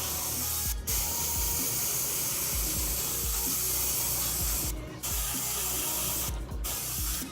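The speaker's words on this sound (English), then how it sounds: "My airbrush is in need for some cleaning." Airbrush spraying during cleaning, a steady close hiss with gurgling, scratchy texture and a few short bursts of louder spray, alone without talk.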